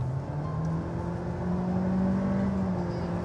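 A 2022 Honda Civic sedan with a CVT accelerates in a steady, droning engine hum, its pitch rising slowly and evenly with no shift steps, heard from inside at moderate level.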